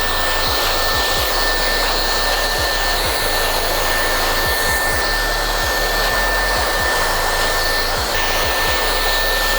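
A hair dryer set to speed 3, heat 2 blows with a loud, constant whooshing roar and a steady high whine, with rhythmic low thumps beneath it during a men's haircut.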